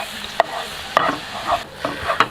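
Coca-Cola reduced to a thick syrup being pushed around a non-stick pan, with sharp scraping strokes at a steady pace over a low bubbling sizzle, close and clear.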